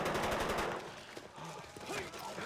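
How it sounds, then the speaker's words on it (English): Gunfire in the film Batman Begins, a quick dense burst of shots at the start, fading into quieter movie sound, all faint and distant. "Oh, is that just like a warning shot?"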